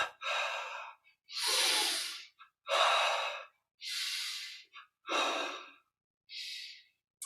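Slow, deep breaths during a guided yoga sequence of stretched-arm movements, six long airy exhalations and inhalations in a steady rhythm, close and alone with short pauses between them.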